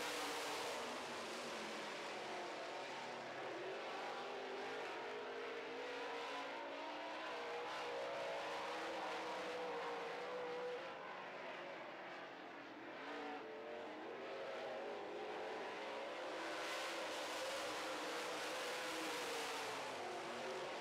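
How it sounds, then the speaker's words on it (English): Late model race cars roar continuously around a short oval track, engines droning loud and steady with a slight swell as cars pass, and no voices heard. "Five to go here in this late model race."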